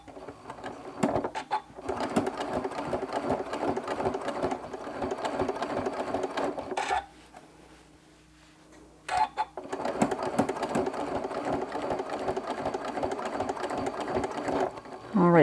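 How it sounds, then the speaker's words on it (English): A sewing machine stitching a quilted mug rug made of crumb fabric with decorative stitches, running in steady rapid bursts, pausing briefly midway, then resuming loud and close. "Go one more stitch here, I think."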